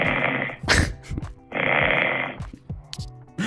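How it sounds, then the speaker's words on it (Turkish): Snoring recorded overnight and played back from a Huawei smartwatch: two long, loud rasping snore breaths separated by shorter puffing exhales and quieter breathy sounds, close and alone. "4'ten 5'e kadar da daha böyle puflama tadında bir horlamamız mevcut."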